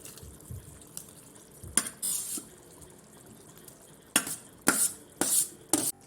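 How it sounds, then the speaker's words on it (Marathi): Okra (bhindi) tipped into a pan of oily, spice-laden gravy, giving several short bursts of sizzling and spattering separated by quieter simmering, close and fairly loud. "आता आपण यामध्ये टाकू आपली भेंडी"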